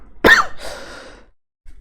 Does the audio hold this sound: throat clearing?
yes